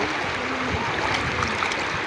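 River water flowing steadily in a clear, shallow river at a family outing spot, a continuous close hiss and gurgle with no voices.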